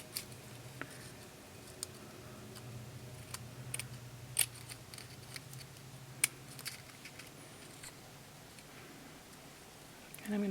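Small snips and light crisp cuts tick faintly and sporadically as scissors trim bits of colored paper for a die-cut card, quiet close-up sounds over a low background hum.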